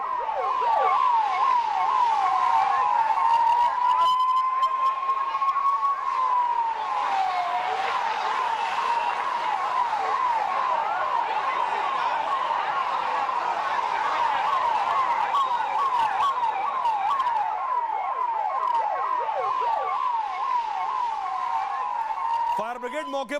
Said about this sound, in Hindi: फौरन फायर ब्रिगेड को बुलाया गया मौके पर, क्योंकि पहले से दमकल की गाड़ियां वहां मौजूद थी।